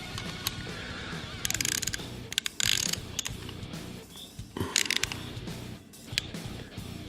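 A Powerfix special socket on a ratchet working a badly rounded bolt, giving short bursts of metallic clicking and grinding in uneven spurts, close and fairly quiet.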